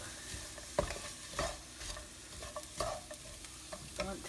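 Onion, garlic and ginger fry gently in olive oil, a soft low sizzle broken by occasional stirring scrapes and clicks of a utensil in the pan, quiet and without speech.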